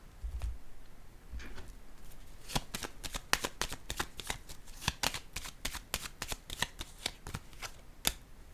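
Tarot cards are handled and laid down during a card reading: a quick run of sharp, dry flicks and snaps, close and clear, with faint background hiss and no talking.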